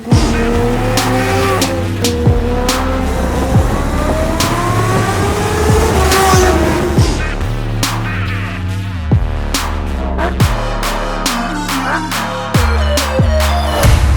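A Kawasaki Ninja H2 motorcycle screams around the Buddh International Circuit, its engine loud and close with rising and falling revs across repeated gear changes for the whole stretch.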